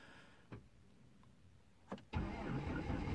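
A 4th-generation Cummins diesel engine turning over in a cold start after glow-plug wait, with a couple of brief cranking bursts before it catches and settles into a loud, steady idle.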